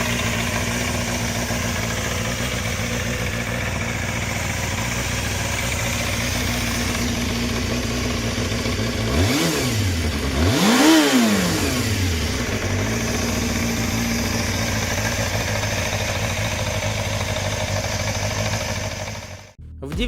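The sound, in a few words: Suzuki GSF Bandit motorcycle engine revving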